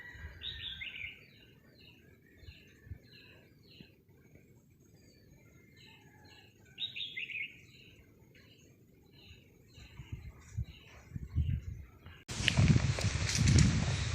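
A flock of red-whiskered bulbuls calls in a backyard garden, with bright, bubbly chirps and whistles in scattered bursts at moderate distance over a quiet background, ending in a sudden loud rustling close by.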